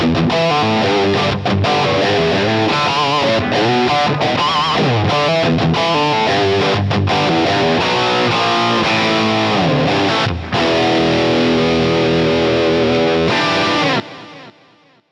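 Distorted electric guitar is played through the Marshall 2204 preset on a Line 6 Helix, loud and continuous with chords and single-note lines, crunchy amp drive throughout, ringing out and fading over the last second.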